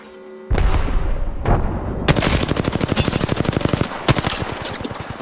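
Video game gunfire bursts loud and close: a few heavy single blasts, then sustained rapid automatic fire with brief pauses and a final burst.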